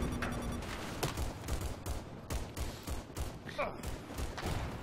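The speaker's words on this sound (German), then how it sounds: "Von wo kamen die ganzen Schüsse?" Gunfire and explosions from multiplayer Battlefield 4 while playing tank crew: repeated sharp shots and thuds in rapid irregular bursts, some distant, some close, with a heavier blast near the end.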